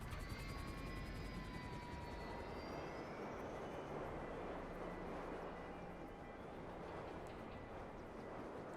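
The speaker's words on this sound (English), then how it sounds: "Can I beat my helicopter crashing to the ground?" A video game helicopter whines with a steady rotor and engine drone that holds throughout, with faint tonal turbine whistles above, but no distinct crash impact stands out.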